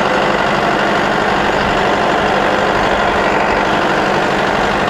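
Tractor engine on a test ride, producing a loud, continuous low rumble close to the mic throughout with no talk audible.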